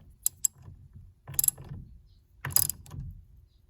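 Ratcheting clicks from a big socket wrench tightening the steering wheel center nut on a 1931 Ford Model A, fitted with a Grip Royal wheel: two quick clicks, then two short bursts of ratcheting, close and clear with no talk.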